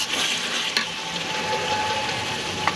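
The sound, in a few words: beef frying in spice paste in a pan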